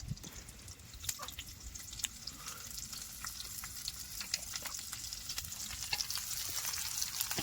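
Hot oil poured over Bombay duck fish sets off a steady, crackling sizzle with scattered sharp pops and spits that build slightly over several seconds, close by and with no talking.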